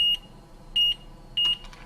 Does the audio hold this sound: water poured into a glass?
no